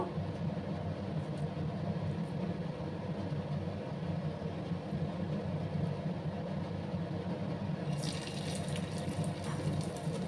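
Sylheti rujot leaf fritters fry in hot oil with a faint, continuous hiss, and a sharper sputtering burst breaks in near the end.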